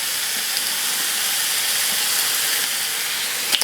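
Bacon sizzles steadily in a hot pan, a dense, even hiss that runs the whole time. A faint clatter near the end could be the pan being tossed.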